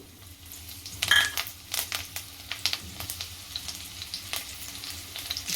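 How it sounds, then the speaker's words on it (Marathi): Green chilies frying in ghee with cumin seeds and curry leaves crackle and spit in short sharp bursts over a steady sizzle, close by, with a few utensil scrapes and no talking. "दोन चम्मच मी तूप घालते जिरा आणि कढीपत्ता"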